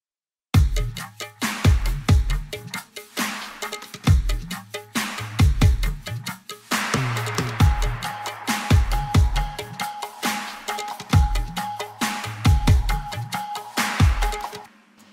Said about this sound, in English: The drums in the chorus section sound something like this.